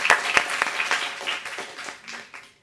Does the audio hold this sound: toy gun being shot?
no